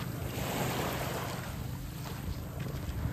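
Steady wash of sea surf and low rumble at a calm provincial beach in Antique, with wind buffeting the microphone throughout; no voices.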